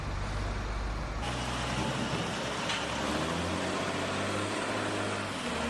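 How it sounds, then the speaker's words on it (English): Front loaders scooping and hauling raw clay at a ceramics plant that makes toilet bowls, producing a loud, steady diesel engine roar with heavy rumbling and a brief higher mechanical whine partway through. "Front loaders move in immediately, scooping the raw material and transporting it to the mixing area"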